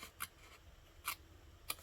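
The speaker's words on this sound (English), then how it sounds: "You're just going to cut up to that score line." Scissors cutting paper up to a score line, three quiet separate snips spread evenly over a hushed background.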